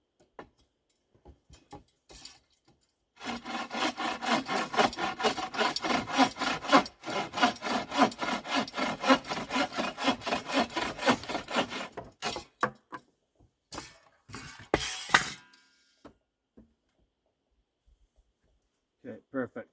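Hand sawing through wood during a repair job: rapid rhythmic back-and-forth strokes run for about nine seconds, then a few shorter bursts follow, close to the microphone with quiet pauses between.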